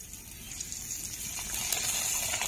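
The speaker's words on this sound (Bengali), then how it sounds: "বন্ধুরা পাঁপড়টা দিয়ে দেব তেলে" Thin homemade sabudana (sago) papad dropped into hot oil, giving a steady, fairly quiet bubbling sizzle with a soft hiss that builds slightly over a couple of seconds, no talking.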